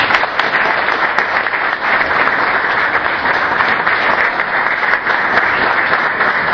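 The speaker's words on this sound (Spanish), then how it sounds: "mi agradecimiento y un fuerte aplauso para todos" Strong, dense applause from a large crowd at a Guaraní sports celebration, loud and sustained throughout without any talk over it.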